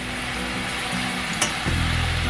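Onion fries in a pan for Bengali-style pumpkin fry with kalonji, a dense continuous sizzle with a small clink partway and a slightly louder surge near the end.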